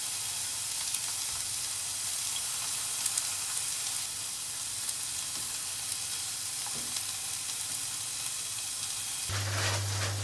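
Food sizzling and frying in a pan on the stove, a steady hiss running throughout at a low level with a faint clatter near the end, no voices.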